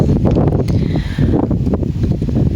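Strong wind buffets the microphone with a steady, loud roar and gusty rumbling, no voices present.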